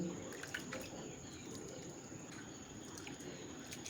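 Soft, quiet sloshing and trickling as sago pearls are gently rubbed and rinsed in water by hand, faint and continuous with a high steady hum in the background.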